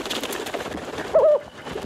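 A cartoon pigeon-rat creature from The Simpsons gives a single short, soft coo that rises and falls, heard briefly over light background sound with no speech.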